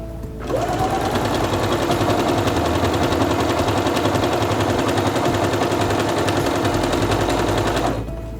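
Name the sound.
Quantum Stylist 9960 sewing machine sewing with pattern elongation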